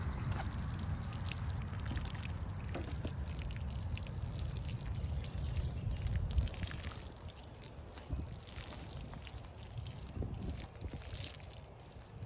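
Seeds in a school garden being watered outdoors, a soft continuous trickle and splash over a low breezy rumble, with a few faint knocks and no talking.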